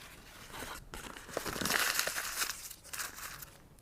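A sheet of paper crumpled by hand into a ball, giving a dense, close crinkling and crackling that swells in the middle and runs steadily for several seconds with no talk.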